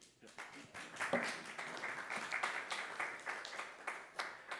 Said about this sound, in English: Round of applause for Ivan.